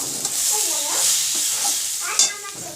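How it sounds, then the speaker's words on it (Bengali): Cabbage frying in a pan, a steady bright sizzle with occasional stirring scrapes and a sharp clink near the end, heard up close with no talk. "এই যে দেখো বাঁধাকপি ভাজা হচ্ছে"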